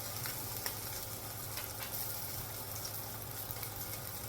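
A salmon fillet sears in a pan with a steady, close sizzle and crackle, continuous and even with small pops and no voices.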